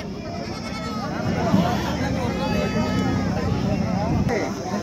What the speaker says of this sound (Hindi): ऐसा बकरा आप बकरीद के लिए तखतपुर बाजार में खरीद सकते हैं